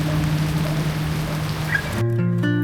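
Rain falls steadily in the rainy season, a continuous broadband patter that holds for about two seconds before a steady tonal hum takes over at the end.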